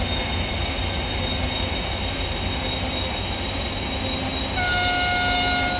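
Voith Maxima 40 CC diesel locomotive running in Train Simulator Classic, a loud steady engine drone with a rolling rumble, and a horn-like tone coming in near the end.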